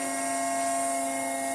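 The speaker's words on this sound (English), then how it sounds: "So we're going to switch on the motor." A hydraulic power unit motor runs in a lab, giving a steady, fairly loud whine with strong tonal bands that holds unchanged throughout, with no one talking.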